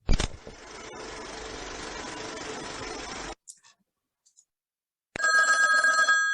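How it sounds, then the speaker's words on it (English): An old-style telephone bell rings loudly and close, a rattling metallic trill that stops and then rings again after a silence. "Old telephone ringing."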